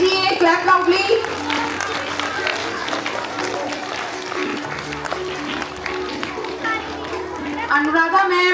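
An audience at a school Founders Day celebration claps for a teacher, a dense patter of applause mixed with crowd chatter and children's voices, fairly loud and sustained before tapering slightly.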